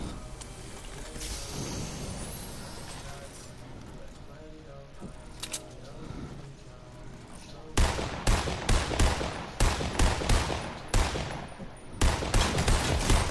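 Video game gunfire: scattered shots under a noisy battle mix, then loud rapid bursts of automatic fire crackling close by in the second half while a voice talks over it.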